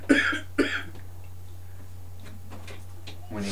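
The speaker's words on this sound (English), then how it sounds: "When he coughs, it tickles." Two quick coughs sound close by, followed by a steady low hum and faint ticking before someone begins to speak.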